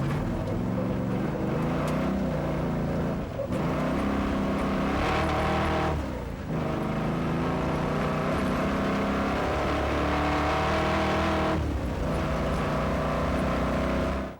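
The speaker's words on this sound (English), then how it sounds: "Let's go on board with the big Mustang and see how he uses all that V8 brute horsepower." Onboard recording of a big Ford Mustang V8 rally car on the 2007 East African Safari Rally, its loud engine droning steadily with revs rising and falling between gear changes and brief dips while lifting off, no talk.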